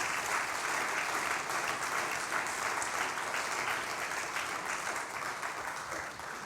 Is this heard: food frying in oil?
no